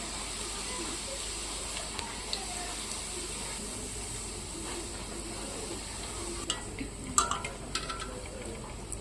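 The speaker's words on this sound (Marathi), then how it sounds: "वरच्या साईडनं थोडे शेव हे आपले प्रेस करायचे आहे जेणेकरून खाली दाबल्यानंतर छान फ्राय होतील" Sev made from a pressed dough fries in hot oil over low heat while being pressed down, giving a steady, fairly quiet sizzling hiss with a few light scrapes and clicks near the end.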